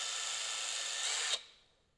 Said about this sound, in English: Don't want to push too hard. Let the drill bit do its thing.